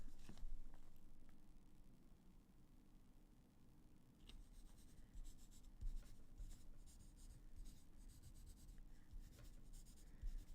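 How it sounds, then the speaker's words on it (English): A pen writes down a phone number on paper in quiet, close scratching strokes that stop and start over about ten seconds, with soft rubbing and faint handling sounds and a low background hum. "I'm gonna write this down"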